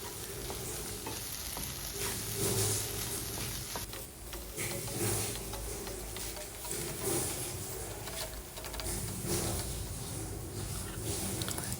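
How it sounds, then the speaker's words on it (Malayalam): Onion and egg being stirred in a frying pan, with a dense continuous sizzle and frying hiss and the scraping of a spatula throughout, loud and close. "സവാളയും മുട്ടയും എല്ലാം കൂടി നന്നായിട്ടൊന്ന് കൂട്ടി യോജിപ്പിച്ച് നല്ലതുപോലെ ഇളക്കിയെടുക്കണം"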